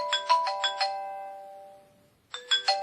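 A ringtone previewed on a ZTE N817 phone, a bright chiming melody of several quick tones that rings out and fades, then starts again after a short pause, clear and close with no talking.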